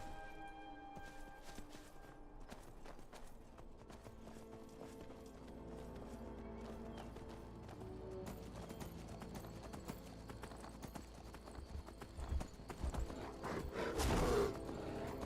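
Horse hooves clip-clop in Skyrim, a steady walking rhythm of soft thuds under game ambience and music-like tones, moderately near, with a louder bump toward the end.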